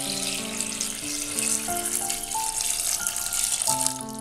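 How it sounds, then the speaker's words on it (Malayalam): Water pours steadily into a pressure cooker holding soaked chickpeas, a continuous close gushing splash whose pitch rises as the pot fills, with no talk. "ഇനി ഇതിലേക്ക് വെള്ളം ഒഴിച്ചു കൊടുക്കാം."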